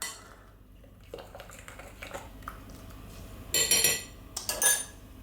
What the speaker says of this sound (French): Je continue de mélanger.